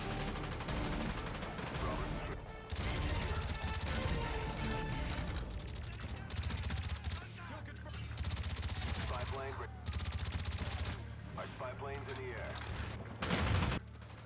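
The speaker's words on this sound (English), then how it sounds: "The way the guns sound and feel in this game is just pure ASMR" Rapid gunfire in the video game Call of Duty: Black Ops, loud bursts of automatic and single shots repeating across the clip with brief pauses and faint voices in between.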